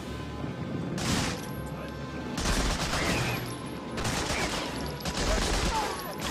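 Allied Lancaster bombers dropping bombs in the WWII shooter Medal of Honor Frontline: repeated loud, rumbling explosions and bursts of gunfire roll on throughout, heavy and close, with no clear speech over them.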